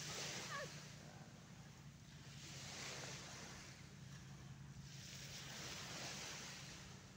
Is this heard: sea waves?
yes